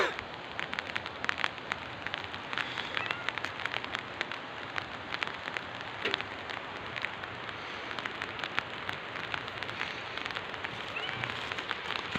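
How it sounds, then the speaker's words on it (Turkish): Steady light rain pattering on surfaces in a village, a soft continuous patter with scattered drops, moderately quiet and even throughout, with no voices. "Şu an çok güzel yağmur yağıyor arkadaşlar. Hafif hafif, yumuşak yumuşak."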